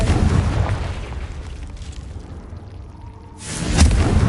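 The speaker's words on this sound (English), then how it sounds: "Confringo!" A spell blast from a witch-themed video game bursts loudly with a rushing boom that fades to a low rumble, then a second bright whooshing burst erupts near the end.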